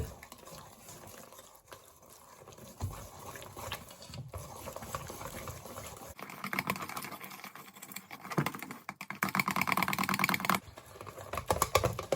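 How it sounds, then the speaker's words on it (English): Waffle batter being whisked by hand in a bowl, with eggs worked in, making a steady rapid scraping and tapping that grows busier and louder toward the end, with no talking. "Going to now gradually whisk this in"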